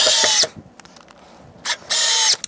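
Power drill driving screws into a plywood model railroad baseboard: two loud, close whirring bursts, each about half a second, with a quiet gap between them.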